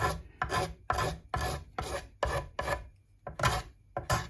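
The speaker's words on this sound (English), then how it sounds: "I used probably the Shinto rasp to bring it smooth" Shinto rasp smoothing a carved wooden guitar body for an ultra-wide six-string build, in nine or so loud, close rasping strokes at a steady rhythm with brief pauses between them.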